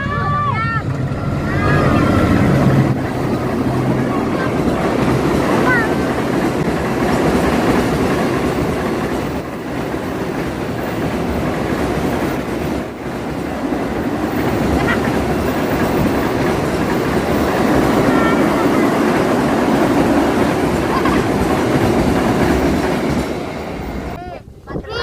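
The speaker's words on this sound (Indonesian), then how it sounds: "Tuh lagi kereta tuh." A long, steady rumble of a passing cargo train with rhythmic rolling clatter, loud and continuous for most of the clip, with voices faintly underneath.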